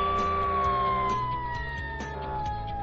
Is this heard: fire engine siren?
yes